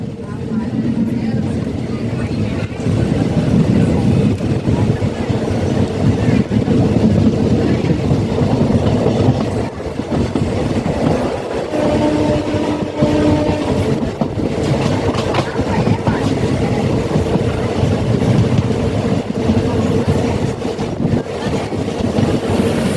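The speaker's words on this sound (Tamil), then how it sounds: "ஒன் மினிட் ஹால்ட்டுக்கு அப்புறம் திருவரும்பூர்லேருந்து வண்டி கிளம்பிடுச்சு" Passenger train pulling away from Thiruverumbur station after a one-minute halt, a steady loud rumble with wheel clatter running throughout, under a voice speaking.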